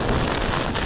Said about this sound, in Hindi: बारिश भी हो रही है, जोरों से हवा भी चल रही है भाई, और बिजली भी गरज रही है